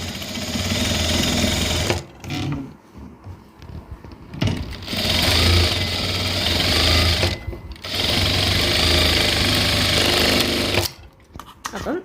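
An electric sewing machine stitches along the leg portion of a garment in a tailoring lesson, running in loud bursts of steady whirring broken by short pauses, with someone speaking over and between the runs.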